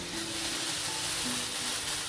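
Chicken malai boti pieces frying in oil in a frying pan, giving a steady, close sizzle that runs unbroken throughout with no voices.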